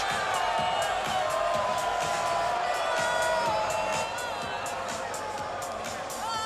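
A crowd cheering and whooping around a cage at an amateur MMA fight after an arm triangle finish, loud sustained roar with shrill whistles and shouts that eases slightly toward the end.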